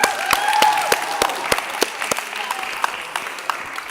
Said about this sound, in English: A round of applause, Mr. Miller, everybody.